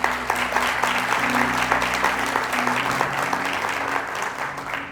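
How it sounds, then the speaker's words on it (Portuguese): A church congregation claps together in a sustained round of applause, dense and even at moderate distance, with a low sustained tone underneath. "Você pode dar um aplauso ao Senhor?"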